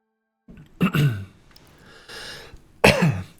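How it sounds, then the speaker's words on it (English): A person coughs and clears their throat a few times in close, harsh bursts with short pauses between, alone without talk. "Sorry for the coughing."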